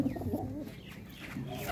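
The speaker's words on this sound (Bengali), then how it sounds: "কবুতরগুলো ছাড়ার জন্য।" Pet pigeons being let out of their coop coo in low, soft, repeated murmurs over a steady ambient backdrop at close range.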